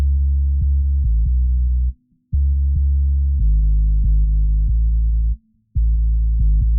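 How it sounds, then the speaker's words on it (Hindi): A song filtered down to its deepest bass, roughly 20 to 200 Hz, plays as loud, muffled low notes that shift in pitch with a steady pulse and break off twice briefly. "अगर मैं इसे अभी सिर्फ लो फ्रीक्वेंसी को सुनूं तो ये कुछ इस तरीके से हमें सुनाई देगा"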